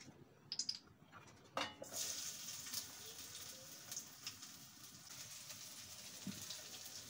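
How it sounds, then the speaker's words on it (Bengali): Onions fry in mustard oil in a pan on a home stove, giving a steady soft sizzle with a few sharp clinks of utensils at the start, moderately quiet and close. "পেঁয়াজ ভেজে নিতেছি"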